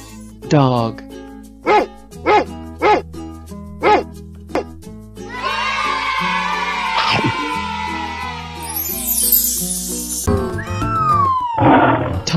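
A cartoon dog lets out about six short, evenly spaced barks, loud and close, followed by a longer stretch of roaring and shrieking animal noise.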